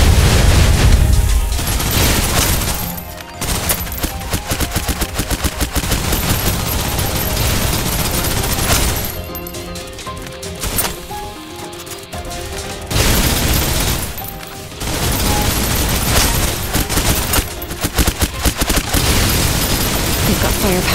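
Rapid gunfire from the video game Snowbreak: Containment Zone, dense bursts of automatic shots and booms that run almost without a break, loud and close, with short lulls and game sounds mixed in.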